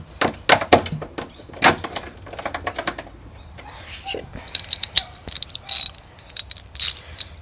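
A socket wrench fastens 8mm nuts on a Toyota Supra taillight, irregular bursts of quick ratcheting clicks and small metallic taps, close and fairly quiet, with no talking.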